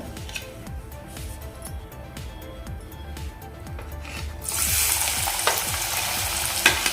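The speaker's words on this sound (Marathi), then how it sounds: "इथे आपलं तेल गरम झालेलं आहे आता यामध्ये आपण कांदा घालून घेऊया" Onion dropped into hot oil for a bombil masala begins sizzling loudly about halfway through, after a stretch of rhythmic stirring and scraping in the pan, and the broadband hiss then holds steady to the end.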